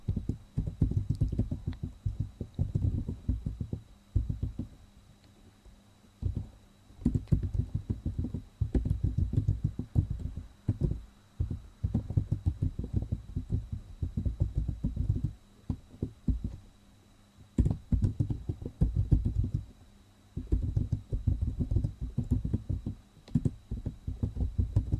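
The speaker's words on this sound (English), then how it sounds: "I will type the quote here" Fingers type a quote on a computer keyboard in quick, steady bursts of close key clicks, broken by brief pauses, with no talking.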